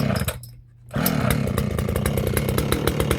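A chainsaw catching after a pull and running steadily at a rough idle, close and loud, after a brief dip, with a continuous buzzing two-stroke drone.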